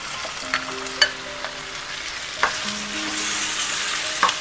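Chicken pieces sizzle in a hot oiled pan on top of already fried onions, a steady close frying hiss with occasional louder pops and scrapes as the pan is stirred.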